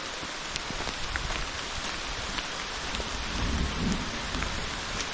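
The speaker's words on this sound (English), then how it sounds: "It is pouring out here now." Heavy rain pours down on a wet trail during a 100-mile mountain ultramarathon, a steady broadband hiss of drops close around the listener with no talking, swelling slightly louder toward the end.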